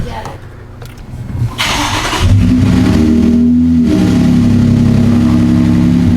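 A turbocharged V6 car engine fires up and revs hard, a loud throaty roar with rising turbo whine, preceded by brief rustling and faint voices.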